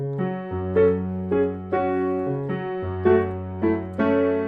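Solo piano plays the intro guitar riff of a song in a fuller arrangement. A steady bass line moves under repeated chord stabs, with accents landing roughly every half second.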